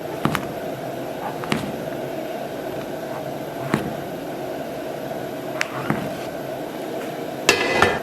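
A knife chops king oyster mushrooms into small pieces on a board, making a sparse series of short taps at irregular intervals against a steady kitchen hum, with a louder clatter near the end.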